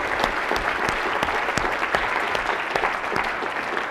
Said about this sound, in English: Let's give a round of applause first.